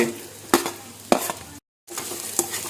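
Onions and capsicum are tipped into a pan of frying chicken, giving a steady sizzle broken by sharp clattering stirs and scrapes, a brief silent gap, then more sizzling close by.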